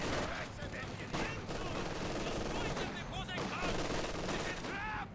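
Rifle fire from penal battalion squads in Company of Heroes 2 crackles in dense, overlapping volleys, sustained bursts layered with battle noise and a commentator talking over the top.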